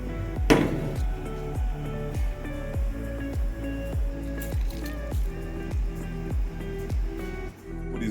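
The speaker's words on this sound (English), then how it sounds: "Now that the coconut milk is being boiled" Coconut milk with sugar, salt and corn on the cob boiling in a pot on the stove, giving a steady, evenly spaced series of soft bubbling plops, close and moderately loud.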